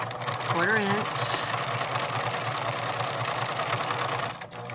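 A sewing machine stitches a quarter-inch seam with a fast, steady mechanical whir and needle chatter running throughout at close range, while a person briefly speaks at the start.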